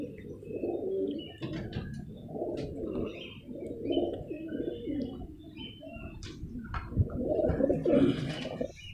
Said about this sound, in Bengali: রাহুল ভাই এখন খোপটা খুলছে, তোমাদেরকে কবুতরগুলো শখ করাবে